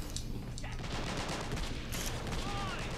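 Submachine gun fire in a video game tournament match: a dense, continuous rattle of rapid shots over a distant battle backdrop.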